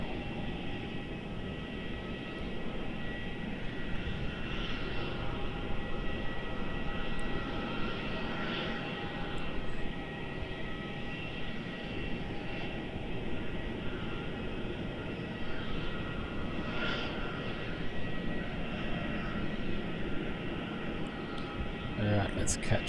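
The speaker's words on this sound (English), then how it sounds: "Alright, let's catch this Dreamliner" A Boeing 787-9 Dreamliner at Melbourne Airport gives a sustained, moderately distant engine roar with a steady tonal whine, rising and falling slightly, while people talk in the background.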